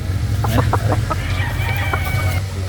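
Gamefowl chickens at a poultry farm cluck in quick bursts over a steady low rumble of background noise, with a drawn-out crow rising partway through, moderately close and continuous.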